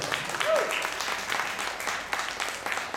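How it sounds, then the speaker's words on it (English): An audience at an executive awards gathering gives a round of applause, moderately loud clapping that runs through with a brief whistle-like tone and some voices underneath. "Okay, good job. Round of applause, please."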